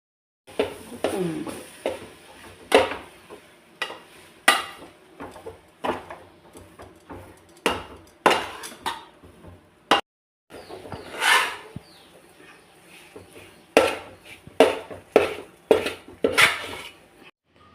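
Semolina (rava) batter mixed in a bowl for a breakfast dish, giving irregular clinks and scrapes of utensil against the bowl with short pauses, close and fairly loud, with no talking.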